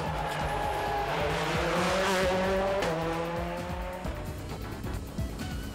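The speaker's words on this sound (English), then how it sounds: "Colin McRae took to his new car straight away" A WRC 2003 rally car, one of Citroën's new cars driven by Colin McRae, roars loudly and continuously as the engine revs rise and fall, with tire squeal and gear changes and no talking.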